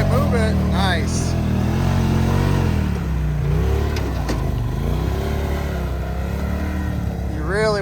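A Polaris RZR Turbo S off-road vehicle revs and climbs a sand dune at Sand Hollow, Utah, its engine roaring loud and steady, with people talking and shouting over it.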